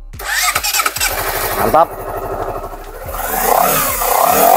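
A 2020 Honda CBR 250RR motorcycle engine cranks and fires up close, then revs in sharp bursts before settling into a rising, steady idle, with someone speaking briefly.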